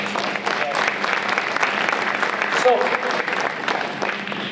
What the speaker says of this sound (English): Give yourselves a little bit of a round of applause here.